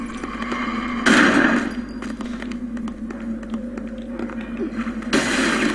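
Rifle gunfire in the video game BloodRayne, two sharp, loud shots a few seconds apart, each ringing briefly over a steady game background hum.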